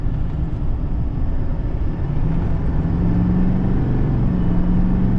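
Duramax diesel pickup fitted with a high-output Derringer tuner accelerating and downshifting, a steady droning engine rumble from inside the cab with a low note that rises slightly toward the end.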